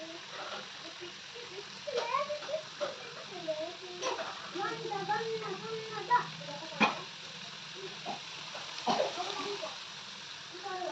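Wheat flour dough fries in oil over a low flame for laddus, a soft bubbling sizzle running beneath almost constant talking.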